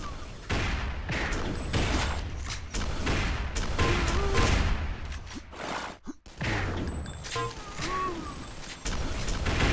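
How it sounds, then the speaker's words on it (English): Rapid bursts of rocket and weapon fire in a competitive arena shooter match, dense repeated blasts with short breaks, loud and close throughout. "Master just shooting some rockets away from Gangler."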